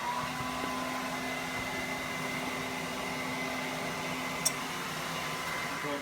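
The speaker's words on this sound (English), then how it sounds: "I'll just keep holding the hair dryer on this part and see if it breaks apart" A hair dryer blows steadily on a frozen refrigerator part, a constant close whirring hum with a faint tonal whine, broken only by a single tiny click near the end.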